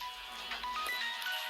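A mobile phone ringtone plays indoors, a steady electronic melody of repeating tones at moderate volume with no voices over it.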